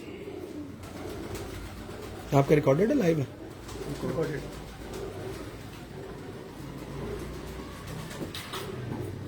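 Pigeons brought in by hand at a pigeon-flying contest give a brief burst of throaty cooing that stands out over steady crowd murmur, with people talking nearby throughout.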